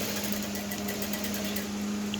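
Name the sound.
sewing machine stitching the seam of a peplum blouse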